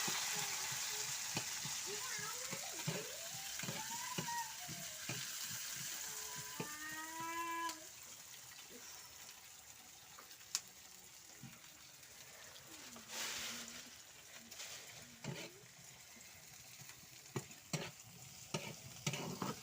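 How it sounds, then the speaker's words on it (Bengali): Onion and garlic frying in a pan for kochu shak, a soft continuous sizzle with scattered stirring clicks and scrapes, and a voice speaking over the first part. "পেঁয়াজ রসুনটা একটু ভালো করে লাল লাল করে ভেজে নেব"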